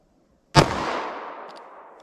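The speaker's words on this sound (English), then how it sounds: "let's see if we get here with our 9mm and our plain clear ballistics shot" A 9mm subcompact pistol fires one sharp, loud shot into clear ballistics gel, the blast and its echo trailing off over about a second and a half.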